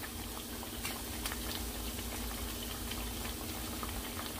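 Plantain slices frying in hot oil for tostones give a steady, dense bubbling sizzle with fine crackling pops, close and continuous throughout with no one talking.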